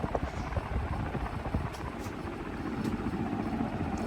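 A vintage 48-inch Winco Wattmaster industrial ceiling fan runs hard inside a shed, giving a steady, rumbling whoosh of moving air with a fluttering low throb, close and continuous.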